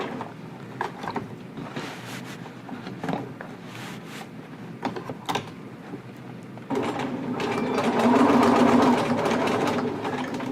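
A sewing machine stitching elastic into a jogger waistband, its rapid mechanical chatter running steadily close by, growing louder and faster in the final few seconds.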